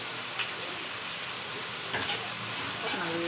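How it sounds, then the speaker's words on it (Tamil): Tomato mint chutney with tamarind, salt and asafoetida sautéing in a pan, a soft steady sizzle with occasional spoon stirs, fairly quiet, a voice briefly heard near the end. "நல்லா வதக்கிக்கலாம்."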